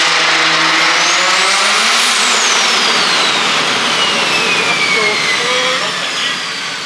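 Big-turbo car engine roaring at high revs with a jet-like whooshing whine that sweeps up and down in pitch; very loud and close, steady throughout before easing slightly at the end.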